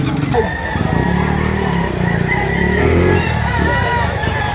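Chickens crow and cluck amid the steady din of a busy poultry market in Lipa, Batangas, with passing motorcycles and cars and people talking throughout.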